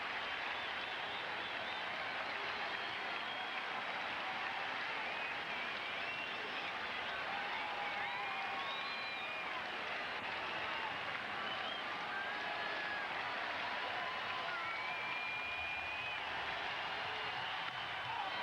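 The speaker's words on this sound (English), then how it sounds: "Crowd standing here at Fenway for this exciting finish tonight." A baseball crowd at Fenway Park, standing during a tense late-game finish between the A's and Red Sox, applauds and murmurs steadily. Scattered whistles rise over the distant, faint, broadcast-level wash of sound.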